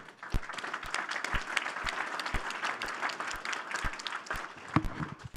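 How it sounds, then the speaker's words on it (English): A room of participants at the April 2023 Uinta Basin Collaborative meeting gives a round of applause, dense and even with sharp individual claps standing out, lasting the whole stretch. "give them all a round of applause for their participation"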